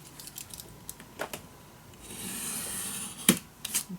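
Paper being cut down bit by bit for a scrapbook mini album, heard as a series of soft scraping and rubbing strokes with a longer hissing cut in the middle and a sharp snip near the end, close and quiet.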